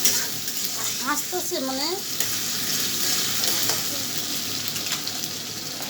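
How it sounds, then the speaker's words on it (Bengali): Onion, green chilli and garlic paste fry in a pan for a prawn and cucumber curry, a constant close sizzle with stirring scrapes, while someone speaks briefly early on. "সামান্য একটু রসুন বাটা দিয়ে ভালো করে পেঁয়াজ কাঁচামরিচ রসুনটা ভালো করে একটু ভেজে নেব।"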